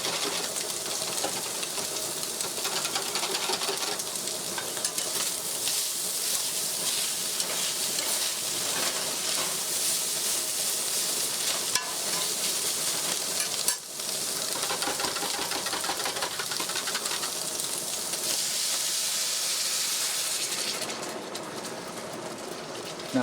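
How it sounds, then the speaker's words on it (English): Steady wire whisk stirring gravy in a hot pan as it thickens, a continuous scraping, sizzling wash that runs close and even for the whole stretch with one brief break. "Now you just take a wire whisk,"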